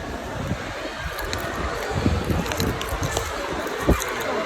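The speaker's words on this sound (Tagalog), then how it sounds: "Oh, sobrang hangin. Sobrang hangin." Strong gusty wind buffets the microphone with low rumbling bursts and rushing noise throughout, no speech.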